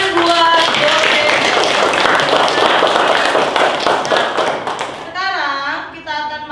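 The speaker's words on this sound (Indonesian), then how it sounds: "tepuk tangan buat Jocelyn" Classroom clapping for a student, a burst of children's hands clapping together loudly and close, with voices talking and children's speech mixed in toward the end.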